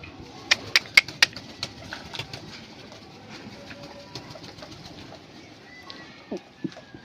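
Pigeons kept in a loft coo in a few soft, low calls, with some sharper chirps and wing sounds scattered across a quiet background; no one speaks.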